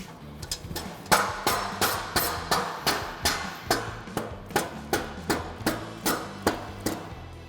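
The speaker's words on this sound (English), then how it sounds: "The dead blow hammer." A dead blow hammer strikes rear suspension parts on a 1968 Chevrolet C10 truck being dismantled, about fifteen sharp, evenly spaced blows in a steady rhythm, close and loud, with a low mechanical hum underneath.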